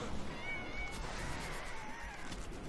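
Summoned cats in the LEGO Minifigures Online video game meow continuously, several overlapping cries in a dense game soundscape, with no talking heard.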